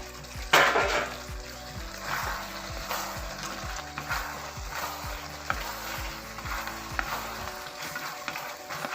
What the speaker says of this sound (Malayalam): അപ്പോൾ ഫ്രൈ ചെയ്ത് വെച്ചിരിക്കുന്ന ചിക്കൻ ഇതിലേക്ക് ആഡ് ചെയ്ത് കൊടുക്കാം